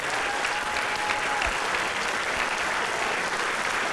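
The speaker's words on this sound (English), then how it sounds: "These people deserve a big, big round of applause." Sustained crowd applause at a school spring concert honoring four-year award students, a thick, even wash of many hands clapping throughout with no break.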